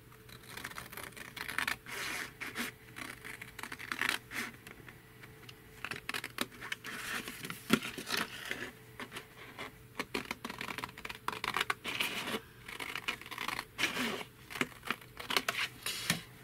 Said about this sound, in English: Find my scissors, and then I'm just going to cut that